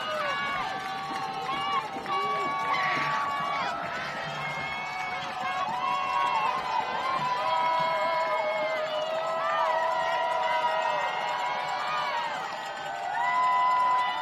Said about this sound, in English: As the crowd rises to their feet here at This Is the Place.